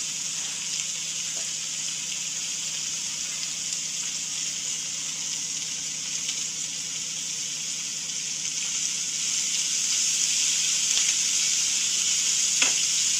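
Onions frying in a pan give a steady, bright sizzle, close and continuous, rising a little toward the end, with a couple of faint clicks and no speech.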